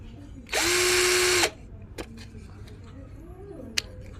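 A cordless drill set to speed two whirs loudly at high speed for about a second, followed by a few faint clicks and handling knocks in a quiet room.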